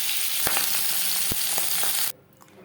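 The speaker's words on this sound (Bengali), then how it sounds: "পরের মাছ একইভাবে ভেজে নেব।" Aar fish frying in hot oil in a kadai, a close, steady sizzle with a few sharp pops and crackles, cutting off abruptly near the end.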